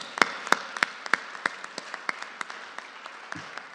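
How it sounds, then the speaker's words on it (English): A small church congregation claps for its young people, sparse distinct handclaps at a steady rhythm that slowly thin out and fade, fairly close and without voices. "let's give everybody, our young people, a round of applause"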